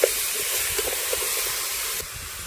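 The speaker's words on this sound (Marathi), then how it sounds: "मॅरिनेट केलेलं मटण टाकून मटण पण आपल्याला चांगलं तेलामध्ये परतून घ्यायचं आहे" Marinated mutton frying in hot oil in a pan, a loud continuous hissing sizzle with faint stirring knocks underneath, steady throughout with no talking.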